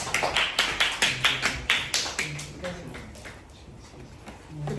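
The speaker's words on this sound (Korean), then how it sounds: "박수 부탁드립니다." A small group claps in a classroom, a few quick, sharp, evenly spaced beats of loud, close applause for a student receiving an award, fading out into room quiet.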